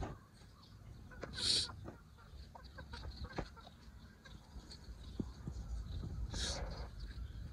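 Desi hens cluck in a farmyard coop, with two brief loud squawks standing out over quieter clucking and low background noise.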